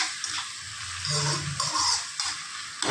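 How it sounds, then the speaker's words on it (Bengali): Food being stirred with salt in a pan on the stove, a spoon scraping and clinking against the metal over a soft sizzle, in uneven strokes with short pauses. "লবণটা দিয়েও আমি এরপরে নাড়াচাড়া করে নেব"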